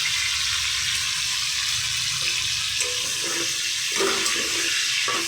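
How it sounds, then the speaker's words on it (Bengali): Pieces of cut hog plum and eggplant fry in a pan, giving a loud, steady hiss and sizzle that stays close throughout. Faint stirring clinks sound near the end, and no one talks. "ভেজে নেওয়া ভালো করে।"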